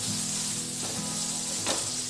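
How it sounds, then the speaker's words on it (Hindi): Butter melting in a pan for toasting suji bread, a steady soft sizzle and crackle close by with a brief louder hiss near the end, no talk. "बटर डाल रही हूँ, उसको मेल्ट कर लेती हूँ।"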